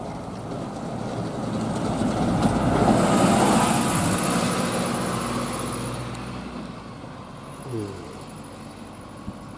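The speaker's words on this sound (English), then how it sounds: "here's one of our guided buses doing what they do best" A guided bus travels along a concrete busway on a former colliery rail line, its engine and tyre rumble building to a loud pass near the middle of the clip and then fading into the distance.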